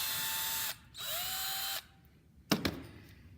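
A power drill whirs in short bursts drilling through a brake pad, pausing briefly between runs, followed by a sharp clatter and fading rattle.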